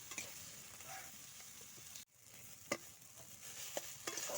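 Spiced potato filling is stirred and fried in a pan, giving a steady low sizzle with occasional scraping clinks of the spoon, briefly cut off midway before the sizzling resumes.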